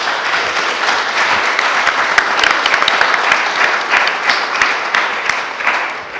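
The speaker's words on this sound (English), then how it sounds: "Folks, let's give our panel a round of applause." A room audience gives a panel a steady round of applause, close and full, with individual claps crackling through the continuous wash for several seconds.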